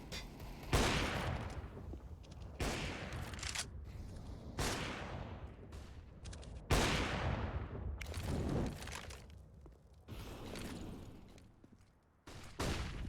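Deagle pistol shots in Counter-Strike on the Nuke map, a series of loud single cracks spaced one to two seconds apart, each trailing off with a ringing decay, with no talking.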